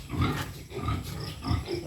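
Pigs on a piggery farm grunt and squeal in a steady, dense chorus that fills the whole stretch, with mixed close and farther animals and no clear pauses.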